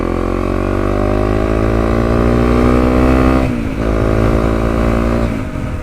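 A 2017 Honda CRF250L dirt bike engine drones loud and close, pitch rising steadily under acceleration, then dips briefly at a gear change before climbing again.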